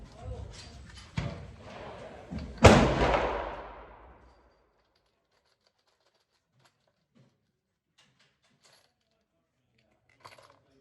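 A 30-40 Krag rifle is fired at a shooting range, giving a single loud, sharp report that decays over about a second, preceded by low handling noise and followed by near silence with faint clicks.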